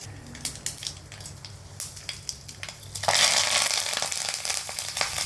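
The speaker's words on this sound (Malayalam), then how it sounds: "കടുക് താളിക്കുകയാണ്" Mustard seeds tempering in hot oil for a Kerala chickpea curry: a few light ticks at first, then a loud, dense crackling sizzle that bursts in midway and keeps going, with no voices.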